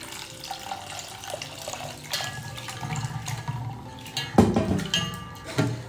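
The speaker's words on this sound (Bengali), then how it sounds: "চিড়েটা 2-3 বার একটু জলে ধুয়ে নেবো ভালো করে" Thick flattened rice (chira) is washed in water, with running water and sloshing, splashing sounds close by, building to a few louder splashes near the end.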